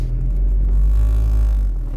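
A car drives along with a deep, steady engine rumble heard from inside the cabin, loud and continuous, with no talking.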